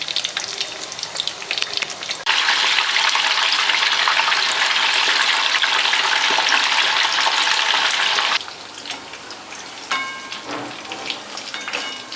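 Paneer sizzling loudly in hot oil, a dense crackling hiss that suddenly grows and holds for several seconds, then drops back to a quieter spattering.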